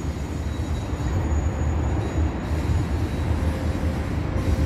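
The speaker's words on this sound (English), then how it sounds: "Look at the train on the background over there" A train rolls past near a skate park beneath a freeway in San Pedro, a steady, continuous rumble of rail cars and wheels throughout with no talk.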